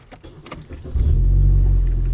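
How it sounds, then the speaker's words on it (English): Keys jangle, then a Chevy Cruze engine cranks and catches, settling into a steady, loud idle that holds to the end. "Let me fire up my car actually really quick so you guys can actually see what that looks like."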